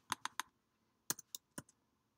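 Typing on a computer keyboard while setting Helvetica Neue text in Photoshop: a quick run of three key clicks, a pause, then a second scattered burst of clicks, close and crisp against a quiet room.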